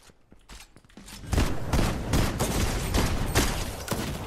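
Gunfire rings out in an online shooter game: a few isolated shots at first, then a loud, dense barrage of rapid reports that carries on steadily to the end.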